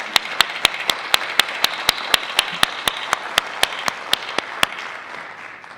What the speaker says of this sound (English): Let's show a round of applause for the Mayoral Candidates.